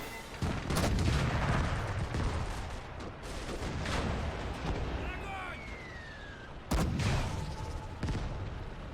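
Tank cannon and battlefield gunfire in the Gates of Hell World War II game, several heavy booming blasts with rumbling tails and a sharp loud shot near the end, a voice speaking over the combat.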